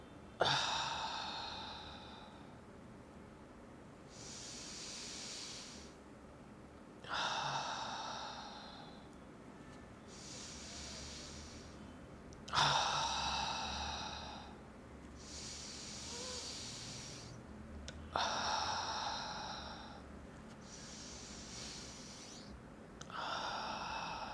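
Pranayama breathing repeats in slow cycles: a long nasal inhale, a pause holding the breath, then a breathy exhale through the mouth, close and clear in a quiet room.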